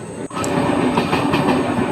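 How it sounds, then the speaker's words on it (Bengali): A train rolls past close by at a level crossing, a steady heavy rumble with faint rhythmic clatter of wheels on track, continuous throughout. "ট্রেন যাচ্ছে।"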